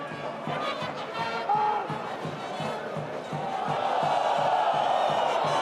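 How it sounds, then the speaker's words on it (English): Rugby crowd at a French Top 14 match between Section Paloise and RC Toulonnais, a broad roar of many voices swelling into a sustained groan in the stadium, loud and continuous with a rhythmic thumping underneath. "Groans from the crowd, who didn't think that that line out was straight."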